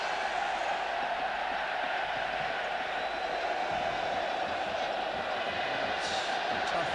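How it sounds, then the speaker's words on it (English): Steady roar of a large stadium crowd cheering during a Poland v England football match, a constant broad wash of distant voices with faint whistles, no clear peaks. "they're getting a bit of cheer at the moment with their side leading by a goal to 0"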